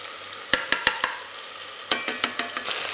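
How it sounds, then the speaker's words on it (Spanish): An almond, hazelnut, garlic and saffron picada fries with tomato in a pan, giving a steady close sizzle broken by sharp, repeated scraping taps of a utensil as it is stirred. "Lo sofreímos junto al tomate. Nada, un par de minutos, removiendo continuamente."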